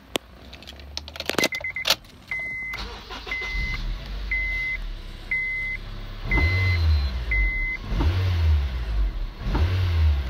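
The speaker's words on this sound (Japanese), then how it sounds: "では、エンジンをかけてみたいと思います。" Keys jangle and a few electronic beeps chime, then a Honda Civic Type R FD2 engine with 110,000 km cranks, starts, and idles with a few revs.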